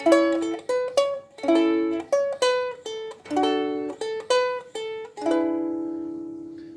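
Ukulele chords strummed in a bright, plucky sequence, about a dozen separate chords with short decays, ending on one longer ringing chord; no voices.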